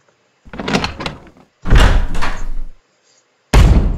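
A door opens in the Resident Evil HD Remastered video game, heard as three heavy thuds and creaking bursts separated by brief silences, loud and close.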